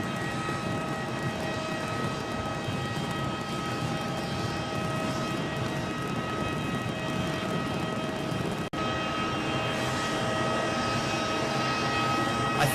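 Aircraft engines roar steadily at Edinburgh airport, a loud continuous drone with tonal whine that holds throughout, briefly dipping once before resuming at full strength.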